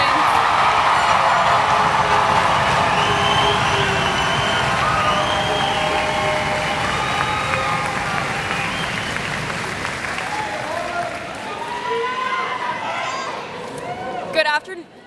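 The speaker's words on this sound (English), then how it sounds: "applaud and congratulate the academic efforts of the class of 2019" A high school graduation crowd applauding and cheering for the class of 2019, dense sustained clapping with whoops and shouts over it, fading gradually before a clatter near the end.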